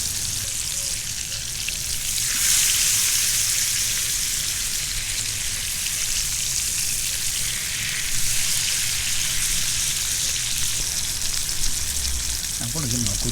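Food frying in a pan outdoors in a garden during an overnight tent test, cooked on moderate heat; a steady, close hiss and sizzle runs throughout with small crackles and no talk.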